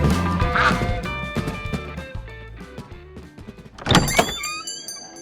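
Cartoonish goose honking for a comic firecracker goose, a series of harsh quacking honks over a busy musical backing, with a louder burst of squawks near the end.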